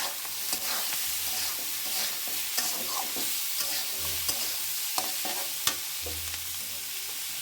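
Dried loitta fish stir-fries with garlic, onion and green chilli in a hot pan, a steady sizzle broken by repeated scraping strokes and light clicks of a spatula.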